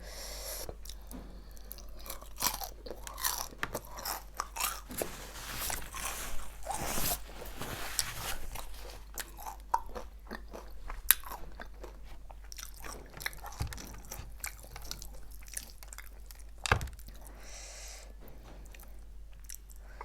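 Wet, crunchy chewing and biting on raw chicken dipped in salad dressing and chili sauce, close to the mic in irregular bursts with no talk.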